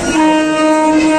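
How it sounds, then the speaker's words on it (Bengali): A train pulling into a railway station sounds a loud, sustained horn blast, close and steady, with no voices. "ওইদিকে একটা আবার ট্রেন ঢুকছে।"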